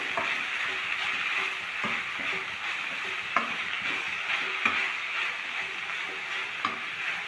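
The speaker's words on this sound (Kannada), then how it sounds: "ಎಲ್ಲ ವೆಜಿಟೇಬಲ್ಸ್ನು ಇದರಲ್ಲಿ ಈ ಥರ ಆಯಿಲಲ್ಲಿ ಫ್ರೈ ಮಾಡ್ಕೊತಾ ಇದ್ದೀವಿ" Mixed vegetables fry in oil for vegetable fried rice: a continuous close sizzle with occasional clicks and scrapes of stirring, steady and fairly loud, with no voices.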